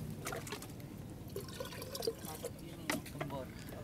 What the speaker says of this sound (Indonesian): Nah sekarang giliran kita Siram Om.